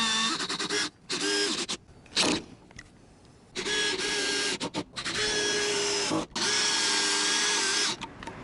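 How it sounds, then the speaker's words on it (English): Power drill driving screws through butyl tape to mount a Maxx Air roof vent on a camper van roof, with several loud sustained bursts separated by short pauses. "laying down our butyl tape and screwing it in"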